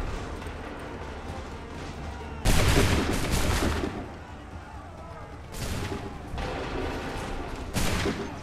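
Musket volleys in the video game Assassin's Creed 3, heavy bursts of massed gunfire that swell into loud rumbling roars at intervals over continuous battlefield noise.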